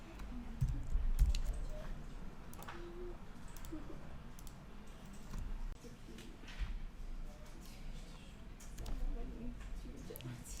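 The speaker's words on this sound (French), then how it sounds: "j'utilise la flèche qui va vers le bas sur le clavier" Computer keyboard keys clicked in scattered, irregular taps, including a down-arrow key, over a steady noisy room background.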